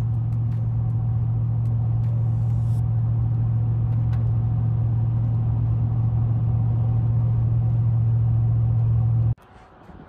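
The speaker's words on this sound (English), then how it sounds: "So this is the highway drone now at about 70." Steady low engine and road drone inside a truck cruising on the highway at about 70 mph, a constant loud hum that stops abruptly near the end.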